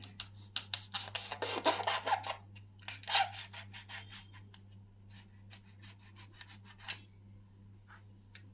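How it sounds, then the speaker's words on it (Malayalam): A fork scraping the pulp out of a halved passion fruit, with several short bursts of wet rasping and scratching up close over a steady low hum, faint and intermittent. "ഞാനിതോടെ ഒരു ഫോർക്ക് ഉപയോഗിച്ചാണ് ഇതിൻ്റെ പൾപ്പ് നീക്കം ചെയ്യുന്നത്."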